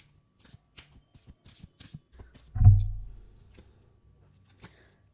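A tarot card deck is shuffled by hand, giving a string of quick, soft riffling clicks followed by one louder, fuller burst of cards snapping together, then a near-silent pause and a single faint tap.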